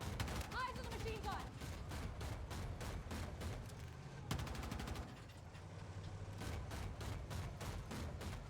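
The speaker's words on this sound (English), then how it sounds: "Eyes on the machine gun." Rapid machine gun fire rattles almost nonstop in a Battlefield 6 firefight, dense bursts with brief gaps and a heavy low rumble of explosions underneath, loud and close.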